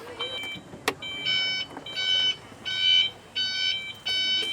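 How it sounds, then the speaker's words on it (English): A golf cart's reversing beeper at a zoo in Thailand, sounding steady high electronic beeps in repeated bursts of about four pulses, fairly close, over light outdoor background noise. "Gotta love that beeping sound when you back up."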